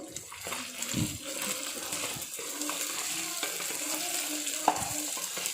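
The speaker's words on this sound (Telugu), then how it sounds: "దీన్ని ఒక 2 minutes ఫ్రై చేసుకుందాం" Onions fry with chili powder in a pan at moderate volume, giving a steady sizzle with soft stirring scrapes and a few wet splattery pops, one sharp clink near the end.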